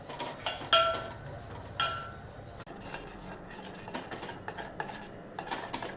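A spoon stirs china grass pudding mixture in a pot, scraping and clinking against the metal with a few sharper clinks early on, close up and without speech.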